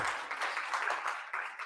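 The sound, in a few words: audience applause at business conference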